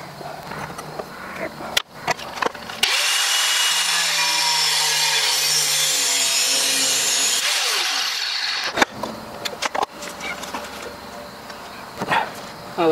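A tool rasps steadily against the metal latch of a water heater woodstove door, a sustained loud scraping for several seconds, framed by sharp knocks and clanks before and after.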